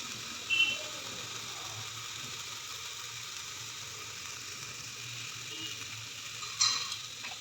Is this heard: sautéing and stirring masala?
yes